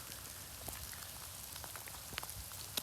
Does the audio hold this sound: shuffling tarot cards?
no